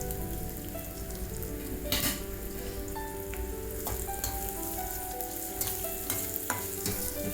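Two finely chopped onions sauté in a pan for a chana dal vadai kulambu, giving a steady, close sizzle with scrapes of stirring and occasional sharp clinks of the spoon, no talking.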